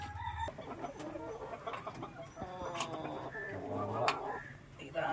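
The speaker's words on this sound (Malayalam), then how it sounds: "ഇതാണ് നമ്മളെ കുറുങ്ങാലിപ്പിട." A Kurungali hen clucks repeatedly at close range while being handled and packed into a box, with a rooster-like call and rustling mixed in and some background voices.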